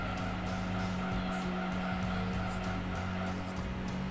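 A racing car in Gran Turismo 2 drones with a steady engine note while tires squeal in repeated short bursts, continuous and fairly close throughout with no talking.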